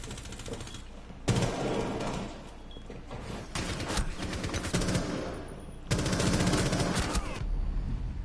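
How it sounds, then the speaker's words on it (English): Rapid automatic gunfire from Rainbow Six Siege comes in three loud, dense bursts of a second or two each, separated by quieter stretches of game ambience. "She was already shooting at me, but oh well."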